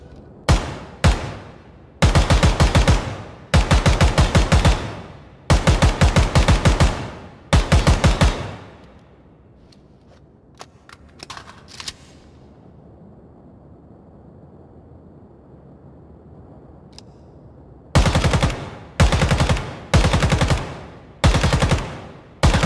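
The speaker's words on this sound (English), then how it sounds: "Up next is the AK-105 Alpha variant." An AK-105 Alpha variant rifle fires in the video game Ground Branch, loud rapid automatic bursts several times in a row, then a long near-silent pause with a few faint clicks before more bursts resume.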